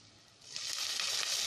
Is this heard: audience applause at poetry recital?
no